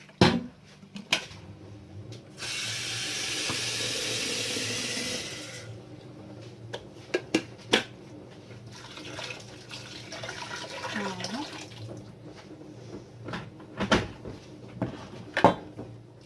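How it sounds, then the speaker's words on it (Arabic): Water runs from a tap into a cooking pot in a home kitchen, a steady hissing pour lasting several seconds, followed by scattered knocks and clatter of pots and utensils. "غادي ندير الماء"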